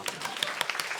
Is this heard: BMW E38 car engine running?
no